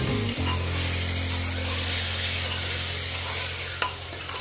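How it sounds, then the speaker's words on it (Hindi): Pieces of chicken for lemon chicken hit a hot pan and are stirred. A loud, dense sizzling hiss starts suddenly and holds steady throughout, with a low hum underneath and a faint scrape near the end. "अब हम इसमें चिकन ऐड करेंगे। फिर थोड़ा सा हिलाएंगे"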